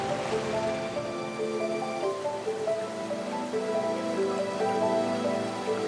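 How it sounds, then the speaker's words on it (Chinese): Detian Waterfall, a massive cascade of wide white streams dropping from more than 60 metres, heard as a continuous dense roar of falling water, steady and full throughout. "世界上最壮观的大瀑布之一德天瀑布，尽情展示自己的力量之美。"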